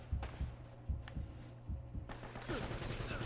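Muffled, rhythmic bursts of gunfire in Uncharted: Drake's Fortune, quiet and thumping in a steady pattern, followed by a louder, brighter wash of combat noise.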